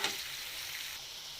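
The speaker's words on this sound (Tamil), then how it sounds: "ஸோ இந்த ஆனியன் வந்து நல்லா ப்ரௌனிஷ் கலரில் வர வரைக்கும் நம்ம வதக்கணும்." Onions sauté in a hot pan for chilli idli, a soft, steady frying hiss that stays faint and even throughout, with no other sounds over it.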